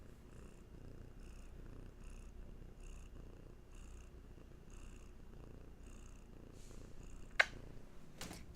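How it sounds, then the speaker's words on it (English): A cat named Hattie purrs softly and steadily in a quiet room, a low continuous rumble with rhythmic breathy pulses, ending with a couple of sharp clicks. "She is here to purr at all of you."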